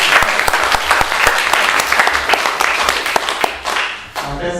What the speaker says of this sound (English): Please big hand, Dr. Ben Hine.